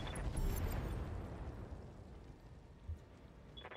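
A turret tower is destroyed in the BattleTech video game, producing a loud rumbling explosion that fades into crackling debris. A smaller thump comes near the end.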